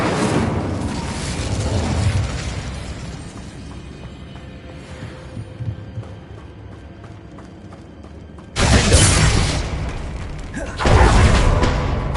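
Casting the Incendio fire spell in Hogwarts Legacy brings two loud, sudden whooshing fire bursts late on, each after a stretch of lower game ambience and rumble.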